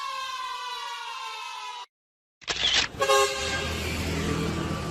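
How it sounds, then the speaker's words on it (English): A delivery truck horn sounds in two long blasts, the first a steady tone, then a pause of silence before a second rougher blare that rises and holds, loud and close. "Delivery truck."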